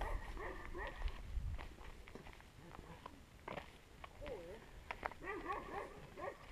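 Several dogs in outdoor rural kennels, with barks and yelps scattered through the clip over footsteps and someone talking nearby.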